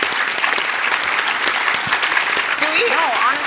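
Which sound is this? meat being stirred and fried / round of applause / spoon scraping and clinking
round of applause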